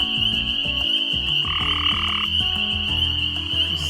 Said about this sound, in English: These are tree frogs